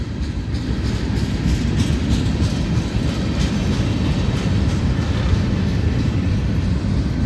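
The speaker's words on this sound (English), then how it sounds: "You can hear the freezer units" A loaded FECR freight train with refrigerated cars rolls past, its freezer units giving a loud, steady droning rumble mixed with rail noise that holds constant throughout, with no talking.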